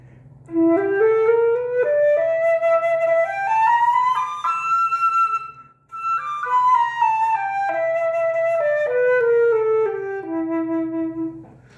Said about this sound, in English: A blues scale simply, on E, flattens the third